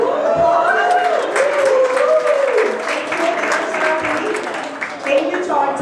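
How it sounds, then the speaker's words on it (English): Conference audience applauding at the 12th Annual Denver Startup Week, steady clapping mixed with a host's voice talking over it throughout. "Can we get a applause?"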